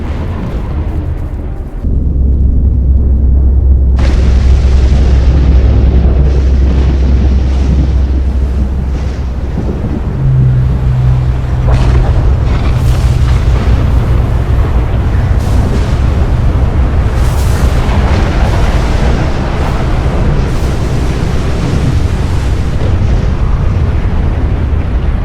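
Emission blowout in Stalker GAMMA, a sustained roaring rumble with deep booming surges and rolling thunder-like blasts, loud and continuous with no voices.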